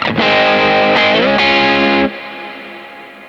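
A sustained, loud distorted electric guitar note rings out with reverb entering after a short pre-delay, then the body cuts off and a quieter reverb tail lingers for over a second.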